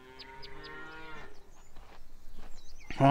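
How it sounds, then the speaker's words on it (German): Cattle moo in the Farmers Dynasty farming game, a drawn-out low moo at the start, another sharp loud one at the end, with quiet farm ambience between. "Ja, die Kühe muhen schon."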